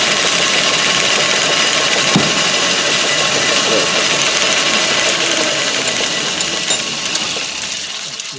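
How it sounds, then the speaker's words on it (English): Holes being drilled into a PM Research dynamo end bell in a workshop, a steady loud machine drone with grinding mechanical texture running throughout and easing off slightly toward the end, with no talking. "so going to get those holes drilled around there and transfer them to the frame"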